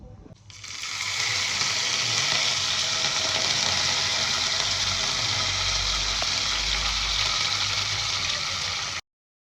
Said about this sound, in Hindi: तड़का देने के लिए ये राई और करी पत्ता इसमें है